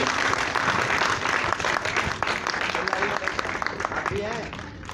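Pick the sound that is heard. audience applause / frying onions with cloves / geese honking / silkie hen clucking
audience applause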